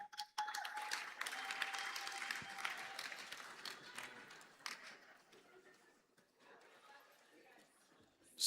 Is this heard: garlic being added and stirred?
no